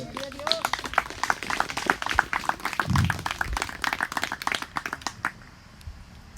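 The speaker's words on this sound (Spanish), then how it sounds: "Le damos una ofrenda de palmas al Señor" A church congregation claps their hands together as an offering to God, with dense, fast, scattered claps through most of the stretch before tapering off near the end, alongside a low thump and faint voices.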